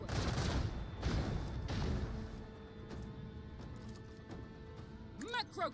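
Macro cannon fire in the Warhammer 40,000: Rogue Trader space battle game, a dense barrage of booming shots and rumbling impacts that fade into a sustained low roar, with chirping tones near the end, playing under a talking voice.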